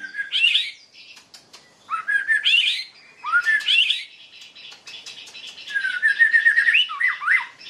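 A white-rumped shama sings in bursts of rich, varied whistles and chirps, clear and close, with short pauses between phrases.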